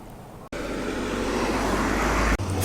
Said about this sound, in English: Throaty burble of the MG RV8